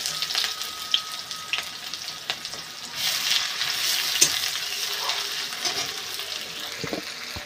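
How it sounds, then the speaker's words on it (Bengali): Chopped onions fry in oil with panch phoron spices in a pan, a close, steady sizzle with occasional stirring clicks and scrapes, growing louder midway. "পেঁয়াজটা লাল লাল করে ভাজা হয়ে গেছে"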